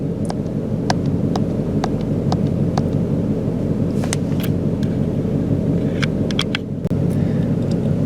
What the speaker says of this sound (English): keyed the car back up, fired it up. It's idling.